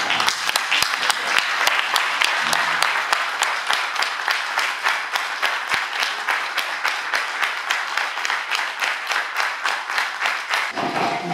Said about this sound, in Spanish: Que nos pongamos de pie y brindemos un aplauso